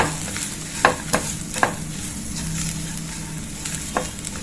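Julienned ginger and green chilies are stir-fried for matar paneer, a low sizzle punctuated by several crisp spatula taps and scrapes against the pan at uneven intervals. No voices are heard.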